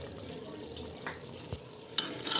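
A spoon stirs garlic paste into mutton cooking in a pot for Afghani pulao, a steady soft sizzle with a few light scraping strokes and clinks against the pan, close and alone.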